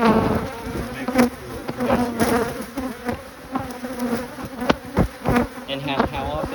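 Honey bees buzz in and around an open beehive, a dense close hum with individual bees droning past the microphone, and faint voices talking in the background.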